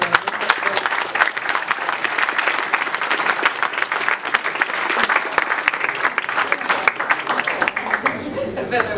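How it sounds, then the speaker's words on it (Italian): Audience applause after a flute and piano concert, dense steady clapping from a crowd of listeners with a few scattered voices, sustained throughout. "Vorrei davvero un altro applauso"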